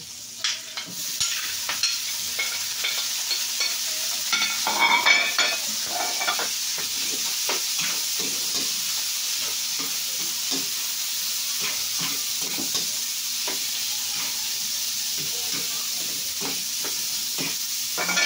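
Tofu and pork fry and are stirred in a pan, with a steady sizzling hiss throughout and repeated scraping clicks of the utensil against the pan, close and loud, with no talk.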